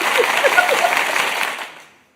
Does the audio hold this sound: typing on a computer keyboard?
no